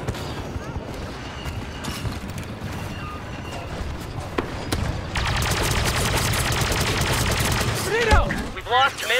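Rapid blaster and gunfire bursts from a Star Wars Battlefront II multiplayer battle, scattered shots at first and then a thick sustained volley with mechanical clanks and a few louder cracks near the end.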